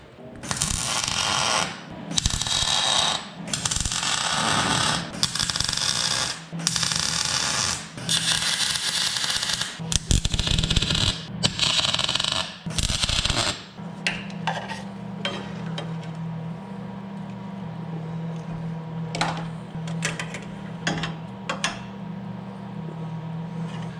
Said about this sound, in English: I'm just gonna put a couple tacks and we should be ready to go. So let's weld.